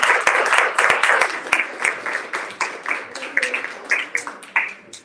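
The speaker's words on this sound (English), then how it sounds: "please, round of applause to welcome Mera." An audience claps to welcome a speaker onstage, brisk and close clapping that starts strong and gradually thins into scattered, uneven claps, with no talking over it.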